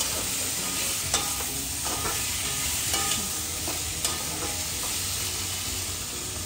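Ginger paste stirred in a pan while cooking Bengali sukto, a soft steady sizzle with scraping utensil strokes and a few sharper knocks, no voices.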